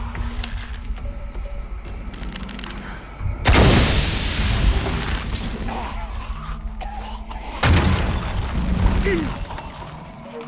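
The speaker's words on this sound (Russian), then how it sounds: "Ну, устрою я сейчас тебе взрыв." Two loud, sudden booming blasts in Shadow of the Tomb Raider, each followed by a crackling rumble that fades slowly, with quieter mechanical sounds in between.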